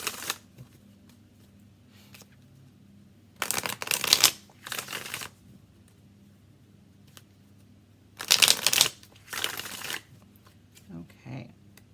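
Nefertiti Tarot deck being shuffled in two pairs of quick riffling bursts, close and crisp, with a faint low hum between them.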